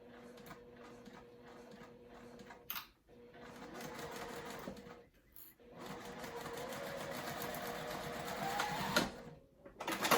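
A sewing machine stitches fabric for a zippered crossbody bag in quick bursts of rapid mechanical whirring, stopping briefly between runs and ending with a short back stitch, close and fairly quiet.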